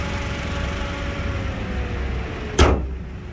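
Daihatsu Rocky hood slams shut once, a single loud close thud near the end, following a steady low idle hum with a faint whine underneath.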